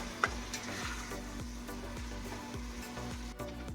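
Ground turkey cooks down in a soup pot with a quiet, steady sizzle, and a spoon scrapes and stirs it in regular strokes about every half second. The sound is close but soft, with no talking.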